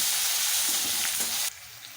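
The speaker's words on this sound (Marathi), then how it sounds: "ह्या सर्व भाज्या आपण चांगल्या प्रकारे 4 ते 5 मिनिटं याच्यामध्ये शिजवून घेऊ" Mixed vegetables stir-frying in a pan for veg noodles give a steady, close sizzling hiss for about a second and a half, with faint stirring clinks, then the frying drops to a softer simmer.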